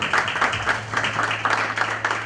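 A pageant audience claps for the work team, brief rhythmic applause of a modest group, fairly close, over a low steady hum.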